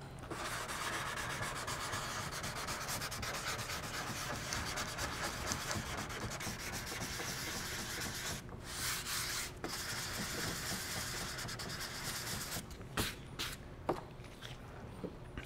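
Hand sanding with a sanding block on a Mirage LYNX repair, a continuous close scratchy rubbing with steady back-and-forth strokes, a few short pauses and light handling knocks near the end.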